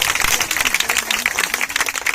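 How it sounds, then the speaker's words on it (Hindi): Applause from a church congregation clapping for the Lord during a Hindi prayer gathering, a steady dense patter of many hands filling the room, loud and continuous, with faint voices underneath. "ताली बजाएं जरा प्रभु के लिए"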